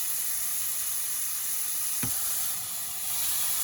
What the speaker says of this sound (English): Next, we're gonna add the green onion.